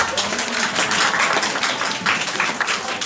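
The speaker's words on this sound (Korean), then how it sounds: "박수로 안녕합시다." Applause from a church youth gathering greeting new incoming middle school students, a steady dense patter of many hands clapping throughout, fairly loud and continuous.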